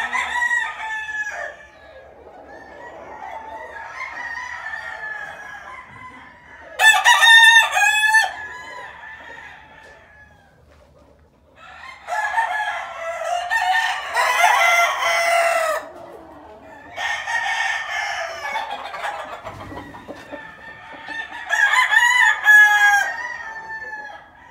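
Several fighting roosters crow in repeated bursts from a pen area, their calls overlapping and rising and falling across the stretch, with clucking from the fowl in between.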